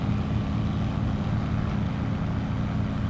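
Steady, droning piston engine of a Focke-Wulf D9 Dora fighter in a video game dogfight, a constant loud low hum with no break or change in pitch.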